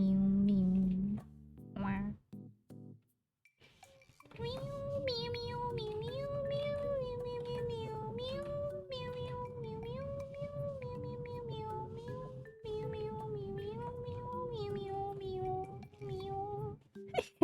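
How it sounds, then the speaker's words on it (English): A song built from synthesized cat meows plays loudly and steadily, a bouncy melody of pitched meow tones repeating in phrases over a thumping beat, with a brief stuttering intro before the tune settles in. "Meow, the song where it's the cat synth"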